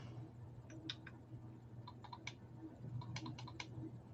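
Small plastic buttons on a vape device clicked in quick bursts of two to four, sharp and close over a low background hum.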